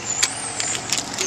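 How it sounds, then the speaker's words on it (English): Diesel trucks pass nearby with a steady, loud broadband roar, a high hiss and a few brief hissing bursts in a short stretch. "Diesel trucks."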